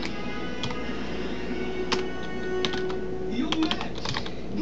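Code being typed on a computer keyboard: quick, close key clicks in uneven bursts, with a faint steady hum underneath.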